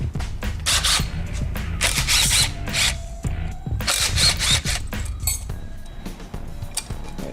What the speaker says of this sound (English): we actually got to remove the bearing retainer right here, so it's 2 8mm screws